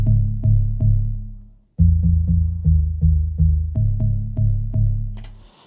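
Organ bass synth in the style of a classic house track, pumping a steady riff of short decaying notes with a brief pause after the first bar, loud and solo, with a short noisy burst at the end.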